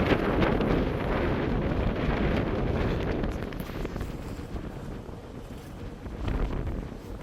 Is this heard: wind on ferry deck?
yes